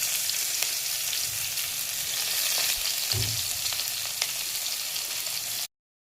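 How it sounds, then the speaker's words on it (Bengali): Chopped onions with a bay leaf sizzle steadily in hot oil in a pan, a close, continuous frying hiss with a few stirring knocks before cutting off. "তো পেঁয়াজগুলি ভাজা হয়ে যাচ্ছে"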